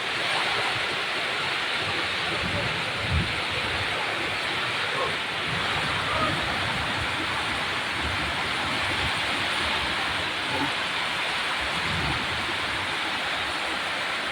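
Heavy rain pours steadily on a cloudy day, a dense continuous hiss close by with water pooling on the ground, and a voice occasionally audible beneath it.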